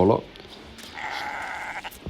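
A sheep bleats once in the Red Dead Online video game, a sustained nasal cry over quiet ambient game sound, after a brief low bump at the start.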